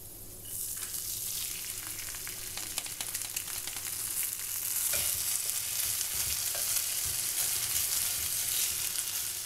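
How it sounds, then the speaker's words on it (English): Rice grains toast in a hot pan for jeera rice, giving a loud, continuous sizzle and crackle. The texture shifts now and then as the grains are stirred. No voices are heard. "I'm going to add in my rice, and I'm going to toast my rice grains a little as well."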